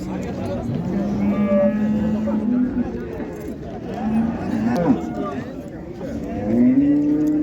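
A cow moos long and deep several times at a busy cattle market in Karshi, close and loud, while people talk nearby amid constant crowd noise.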